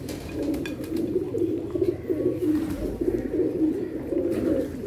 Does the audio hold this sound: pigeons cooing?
yes